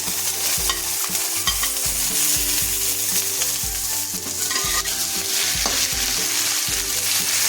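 Fried potatoes are stirred into a sizzling spice masala in a pan, with repeated scraping spoon strokes over a steady, close frying hiss and no talk.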